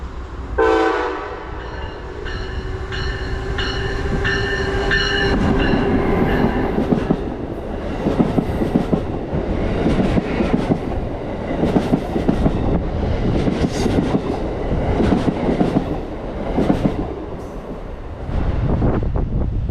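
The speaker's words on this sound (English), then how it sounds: "Running only a few minutes behind 137 was the Vermonter, Amtrak Train 55 with its standard 5 cars led by ACS 64 632" Amtrak's Vermonter, five cars led by an ACS-64 electric locomotive on track 3 at Norwalk, sounds its horn in sustained blasts, then roars close by with rhythmic wheel clatter and rumble for the rest of the pass.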